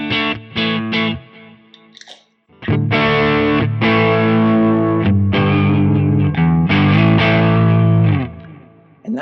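Electric guitar played through a Walrus Audio Fundamental Drive pedal in smooth mode, boosting a Quad Cortex amp model into light drive: sustained, lightly overdriven chords ringing loud and close after a few short opening stabs, with no talking.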